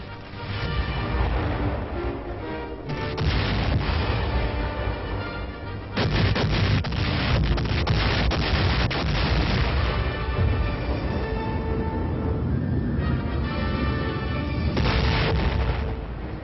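WWII naval and air bombardment of Okinawa, heard as a dense, continuous barrage of heavy booms and artillery blasts rolling one over another, loud and unrelenting throughout with no speech.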